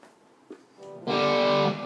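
Electric guitar played through an Amplitude 3 amp simulator rings out as a loud, sustained distorted chord after a few faint quieter picks, with no one talking over it.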